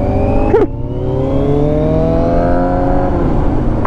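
A car engine drones close and loud, its pitch climbing steadily as it revs up during a drive, with a brief squeaky sound near the start.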